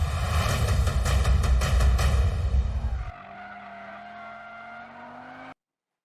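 An Audi RS 3 prototype races in drift mode on a track. A loud engine roars with rapid stuttering pulses for about three seconds, then drops to a thinner steady whine that cuts off sharply.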